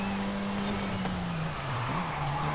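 A Saleen S1 sports car in the racing video game Forza Horizon 5 drones along with a steady engine hum whose pitch sags slightly and then recovers during a hot lap.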